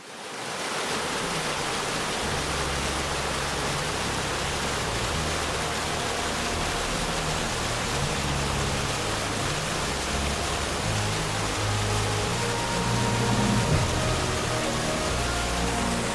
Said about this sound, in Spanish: Por aquí la ribera se hace abrupta y el agua sortea un cauce pedregoso e inhóspito.